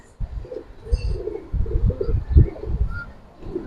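Giribaz and colored pigeon chicks coo in a loft, giving a series of low, throaty burbling coos that come close together and stand out clearly in the quiet.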